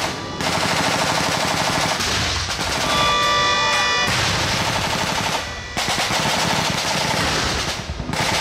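At a staged re-enactment of the 1942 Darwin bombing, rapid machine-gun fire rattles in loud, sustained bursts with brief pauses, and a faint siren tone sounds briefly in the middle.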